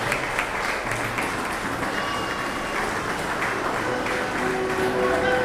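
Audience applause at an award ceremony as an honoree is called to the stage, a steady dense wash of clapping that holds evenly throughout, with faint voices mixed in.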